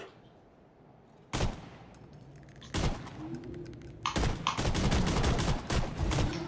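Sniper rifle fire in the video game Lawbreakers: sharp, rapid shots, first a few spaced cracks, then a quick string of blasts toward the end, loud over a quiet background.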